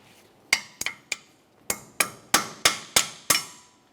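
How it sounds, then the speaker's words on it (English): Sharp metallic hammer blows peen over a new cotter pin on a Ford Explorer Sport Trac front axle stud: about ten close, ringing strikes, first spaced irregularly, then in a steady rhythm, each decaying quickly. "Peen it over so there's no way this can loosen up on its own."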